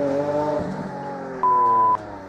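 Lamborghini Aventador LP704 V12 heard from inside or nearby, a smooth shifting engine drone at moderate distance with a brief steady tone cutting in midway, no speech over it.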